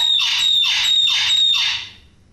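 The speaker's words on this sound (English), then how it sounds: "help Gemma, the distressed owner of a very noisy bird" A parrot squawks four times in quick succession, loud, harsh and close, each burst shrill and grating before it falls quiet.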